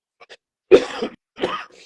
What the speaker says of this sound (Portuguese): com esse tempo seco, a minha tosse está difícil de aguentar aqui